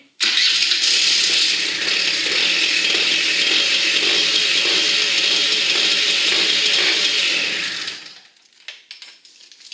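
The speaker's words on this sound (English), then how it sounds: "So we'll just screw the cover back down" A steady, high-pitched mechanical whir of about eight seconds as the kill switch cover on a Suzuki LT80 quad is screwed back down. It stops abruptly and leaves faint clicks.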